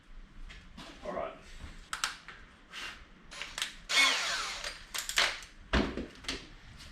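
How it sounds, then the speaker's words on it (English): A power drill with a 3mm bit boring a pilot hole while a motorbike exhaust is being shortened, heard in short whirring bursts between clanks and handling noises in a workshop. "I'm going to start with a 3mm drill bit first"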